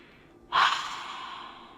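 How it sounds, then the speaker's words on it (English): A deep belly breath, a soft faint draw followed by a sudden loud airy exhale that trails off slowly, close to the microphone and alone. "by just doing some deep belly breathing"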